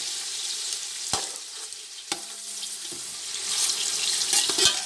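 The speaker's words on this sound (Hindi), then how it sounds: "चिकन हमने डाल दिया था और साथ ही डालने लगे हैं प्याज, ताकि ये थोड़ी सी नरम हो जाए," Chicken pieces and onions fry in a pan with a steady, close sizzle, broken by a few sharp clinks from stirring against the pan.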